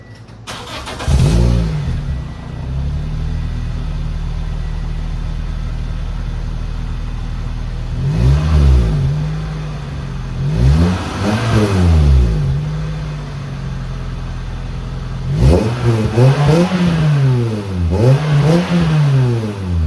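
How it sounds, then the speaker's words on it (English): A 2005 Toyota Corolla XRS with a Magnaflow exhaust cold starts inside a garage, settles into a loud steady idle, then is revved repeatedly in sharp rising and falling bursts, close and booming. "it's pretty much a cold start, but here we go. Magnaflow."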